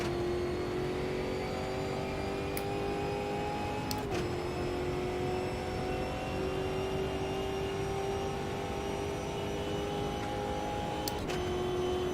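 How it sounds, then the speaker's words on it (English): A Brazilian stock car engine in the Automobilista 2 racing game at Goiânia, holding a loud steady high-revving drone with brief stuttering dips near the rev limiter, continuous throughout with no voices. "Bounced the rev limiter there for a second."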